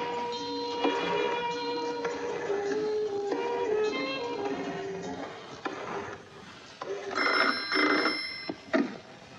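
A telephone rings in repeated bursts of bright electronic trilling, loud and close with short gaps between rings, faint voices briefly underneath.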